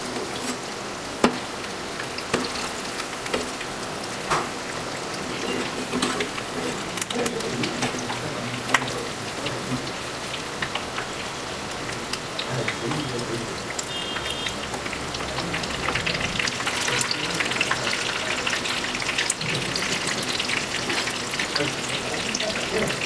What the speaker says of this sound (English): Fry till it becomes golden brown.